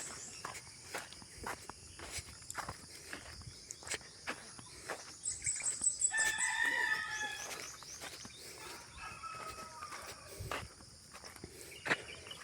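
Chickens on a farm near a mango tree, with a rooster crowing briefly mid-clip over steady insect chirping, footsteps and rustling outdoors; no talking.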